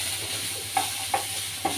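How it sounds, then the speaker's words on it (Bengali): Chopped carrots, long beans and green beans frying in a pan hiss continuously while a spatula scrapes through them in three short, distinct strokes, close up with no talking. "তো এখন আমি একটু ভালোভাবে নাড়াচাড়া করে নেব"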